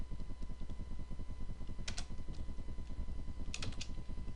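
Client details typed on a computer keyboard, a quick, even run of close key clicks with a couple of sharper taps, no talking.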